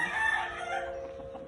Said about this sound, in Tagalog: Ayan, yung mga manok. Ang aming mga manok.